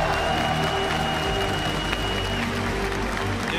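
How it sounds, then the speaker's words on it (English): An arena audience at the Worlds 2015 esports group stage opening ceremony applauds, dense continuous clapping filling the space with crowd murmur and faint voices underneath. "Des applaudissements pour les Wildcards."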